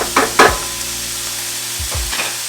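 A spoon stirs canned salmon patty mixture in an oiled pan, making a few short scraping, sizzling strokes over a low, quiet background.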